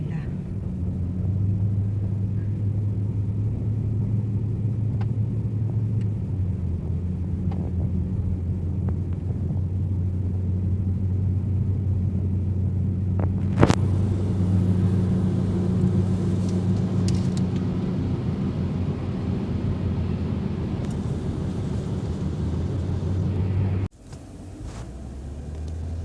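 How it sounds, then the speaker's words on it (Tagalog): Heavy road traffic in Al Khobar is heard from a high vantage point as a constant low, rumbling drone of many vehicles, steady and somewhat distant, with one brief sharper sound midway. "Sobrang matraffic."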